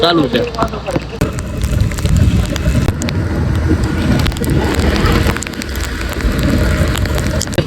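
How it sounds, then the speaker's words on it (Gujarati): Steady rain hisses and patters throughout, with low rumbling and faint indistinct voices underneath. "વરસાદ ચાલુ છે"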